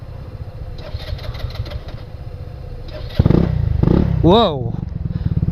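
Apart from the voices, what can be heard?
motorcycle engine starting and revving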